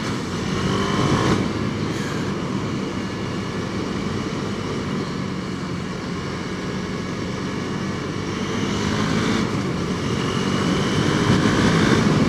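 Motorcycle engine pulling hard under acceleration on an open road, a steady broadband roar with wind rush that swells near the start and again toward the end, close and continuous with no talk.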